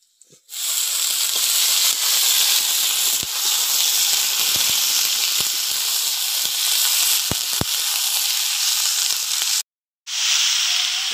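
Chopped cabbage, tomato, potato, peas and green chilli hitting a hot pan set off a loud, close, sustained hiss and sizzle with scattered pops, cutting out for a moment near the end before resuming.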